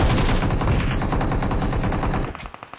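Rapid gunfire in a video game, a dense burst of shotgun blasts in quick rhythmic succession, loud and close, cutting off sharply near the end with a few fading reports.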